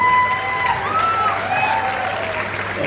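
Audience applause welcomes Imtiaz Jaleel at an MIM public meeting in Mumbra, a dense, steady clapping from a large crowd with some whistle-like tones over it.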